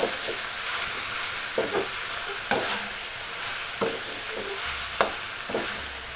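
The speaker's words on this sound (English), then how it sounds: "All right, toss in my pork and shrimp. Mix those through and through." Pork and shrimp tossed with Shanghai lo mein noodles in a hot pan, a continuous frying sizzle broken by periodic scraping clatters of the utensil as the ingredients are mixed.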